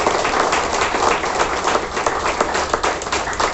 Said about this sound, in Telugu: ఒకసారి మునికి గట్టిగా చప్పట్లు కొడదాం.